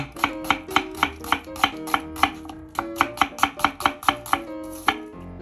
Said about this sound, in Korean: 양파를 채 썰어주세요.